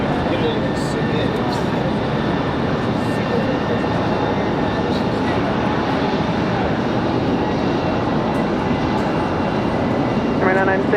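An airplane takes off from runway 23 right at Raleigh-Durham International Airport, a loud continuous engine roar that fills the whole stretch, with voices faintly present underneath.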